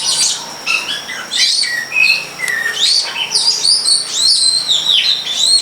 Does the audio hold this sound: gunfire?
no